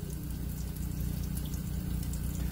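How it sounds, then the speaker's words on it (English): Water streams steadily from an RV faucet fed by the onboard pump rather than city water, a soft continuous rushing and splashing that stays fairly quiet and even, with no talking. "So now when you turn on the water, I can stream it."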